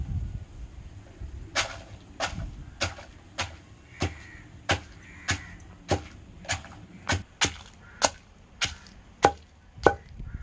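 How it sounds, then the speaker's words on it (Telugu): Coriander seeds and red chillies pounded in a stone mortar (rolu) for gongura chutney: about fifteen sharp, evenly spaced thuds, close and clear over low background rumble. "ఇప్పుడు అవే రోల్లో అయితే దంచాలి."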